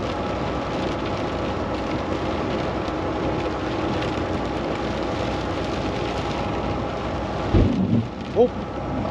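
Heavy rain pours steadily over a trucker's cab during a thunderstorm, a dense unbroken roar with a couple of brief louder bursts near the end; a voice murmurs faintly underneath.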